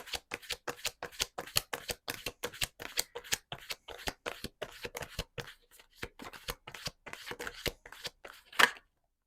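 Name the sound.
tarot cards being shuffled for a reading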